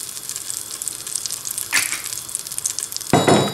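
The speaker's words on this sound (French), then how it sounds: "Et je fais colorer ma viande," Veal pieces browning in melted butter with a little oil in a heavy-bottomed pot, giving a steady close sizzle with brief louder crackling bursts and a sharp clatter near the end.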